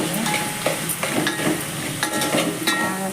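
Spices, salt and a little chili powder being stirred into a pan of Telugu-style dal soup (pappu charu), a steady close scraping and swirling with a faint sizzle underneath, continuous with small clinks, no talking.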